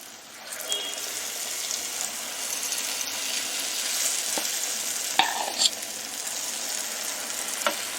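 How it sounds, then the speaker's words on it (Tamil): Maida vadai batter is spooned into hot oil, setting off a loud, continuous frying hiss with bubbling crackle and a few sharp clinks near the end. "எண்ணெய் சூடானதுக்கப்புறம் கொஞ்சம் கொஞ்சமாக எடுத்து போட்டுக்கோங்க"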